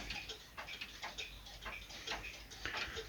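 Pendulum of an antique 1930 French grandfather clock ticking in a steady, even rhythm, crisp close ticks repeating about every half second, quiet and alone.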